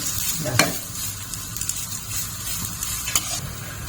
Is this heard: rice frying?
yes